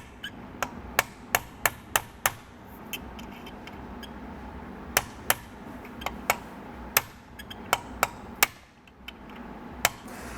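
Sharp, distinct taps of a tool drive a tight alignment dowel into an automatic transmission valve body, struck repeatedly in short irregular bursts, close and clear above a quiet workshop background.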